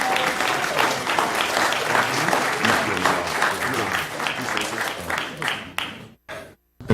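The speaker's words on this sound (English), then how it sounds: "Y'all give them a round of applause." Applause for the coaches at a city council meeting, a loud room-wide round of clapping with some crowd voices mixed in, carrying on for several seconds before tapering to a few scattered claps and stopping.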